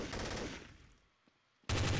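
Glock pistol fire in a German multiplayer game comes as a dense burst of shots. It fades into near silence with a faint click, then another loud volley cuts in abruptly at the end.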